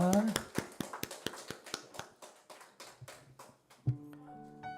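A small church congregation claps in thanks to God after Sunday worship, with sparse, distinct hand claps in an uneven rhythm that thin out, then a voice begins speaking near the end.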